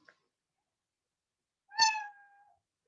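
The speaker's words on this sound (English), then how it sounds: "When I click, then the start sound was meow" A single short cartoon-style cat meow plays as the start sound of a Scratch program, clear and isolated against silence.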